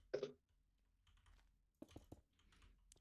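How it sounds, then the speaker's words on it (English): Computer keyboard keys clack in a few quick bursts, one sharp cluster of strokes followed by a faster run of typing, close and fairly faint in a quiet room. "I can hear your keyboard clacking."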